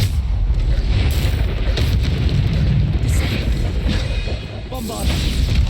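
Explosive Bombarda spell blasts in Hogwarts Legacy combat roar and boom loudly over dense, continuous battle noise, with spell-casting voices calling out amid the impacts.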